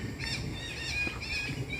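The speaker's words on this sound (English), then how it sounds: "Those parrots that you heard just now is a common parrot in Singapore." Parrots call in a park in Singapore with thick vegetation, tall trees and a nearby reservoir, giving a few fairly faint, harsh squawks in quick bursts over quiet background ambience.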